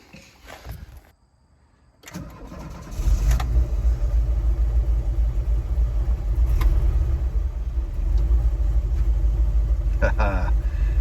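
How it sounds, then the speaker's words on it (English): A 1987 VW Vanagon engine cranks and catches after a brief silence, then settles into a loud, steady low rumble of idling, close by. "I'm gonna start her up again and see if she idles"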